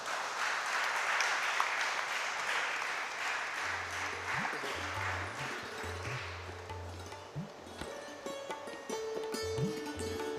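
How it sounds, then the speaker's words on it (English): A round of applause at a national seminar for the team members called forward, sustained steady clapping from an audience throughout, with some low hum and faint tones underneath in the later part. "Give a round of applause for them."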